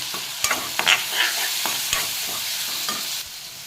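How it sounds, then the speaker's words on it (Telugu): Chopped tomatoes are stirred into a sizzling curry of fenugreek and other greens in a hot pan, with a steady frying hiss broken by several sharp spoon scrapes and clacks against the pan, close up. "ఇందాక తరిగి పెట్టుకున్న టమాటా, వీటిని కూడా కలపండి"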